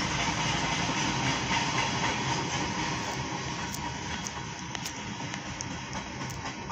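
A train rolls past close by, a steady loud rumble and hiss of rail cars with faint clicking wheel noise running throughout, no talk over it.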